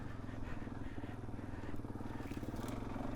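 Suzuki DRZ 400S dual-sport motorcycle riding a dry trail, its engine a steady, rumbling drone with faint clatter from the bike over rough ground, heard close and fairly quiet.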